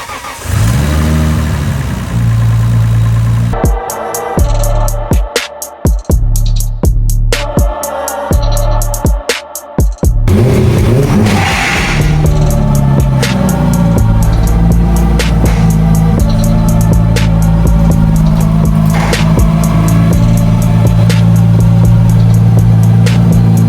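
A Nissan Skyline with an RB26 engine runs loudly, first sputtering and cutting out in rapid choppy bursts, then settling into a sustained drone of steady driving, close and dominant throughout.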